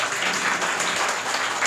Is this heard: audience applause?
yes